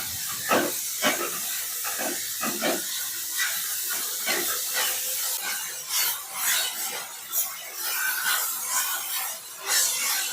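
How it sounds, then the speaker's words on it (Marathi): Grated carrots sauté in ghee with a steady hiss and sizzle, broken by scraping and stirring strokes against the pan. No one speaks. "गाजराला तुपामध्ये छान परतून घ्यायचं आहे."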